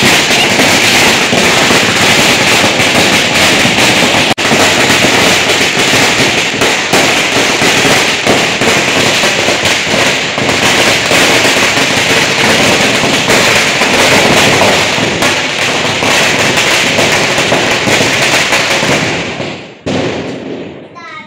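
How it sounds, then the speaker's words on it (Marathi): Firecrackers set off by children outside during a Bhaubeej celebration, a dense, continuous crackle of rapid pops and bursts lasting throughout before cutting off abruptly near the end. "मुलांनी थोडासे फटाके पण फोडले."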